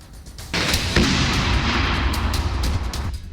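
Sustained roaring barrage of Russian missile and artillery fire striking Ukraine, a dense continuous rumble with sharper cracks layered on top, loud and close after a brief quieter start, with no speech.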